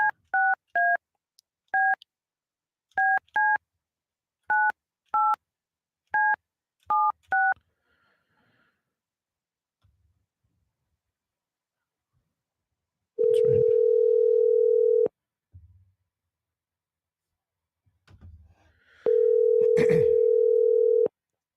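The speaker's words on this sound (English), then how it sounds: "Get old Kevin a call here." A rapid run of touch-tone telephone dialing beeps, then a steady, loud electronic telephone tone that sounds twice, each lasting a couple of seconds.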